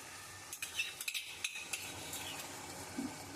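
Butter sizzles in a pan of cooked cauliflower: a soft steady fry hiss under several sharp clinks and scrapes of a spoon stirring, close and fairly quiet.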